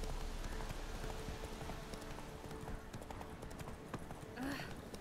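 A horse gallops in the Witcher 3 video game, its hooves clattering in a quick, steady rhythm close by, with a faint voice underneath.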